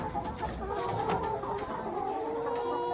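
Hens cluck and murmur in a poultry tunnel on a farm, a busy overlapping chorus of short calls at moderate distance over a low background hum.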